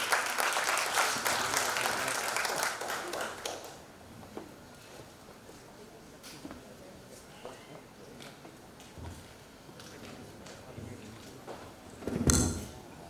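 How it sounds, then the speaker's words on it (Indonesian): Applause from an audience at an evening corporate awards event rises for a speaker, loud for the first few seconds, then fading to scattered claps and room noise, with a brief sharp clatter near the end. "Kita berikan tepuk tangan untuk Bapak Tommy Sujarwadi."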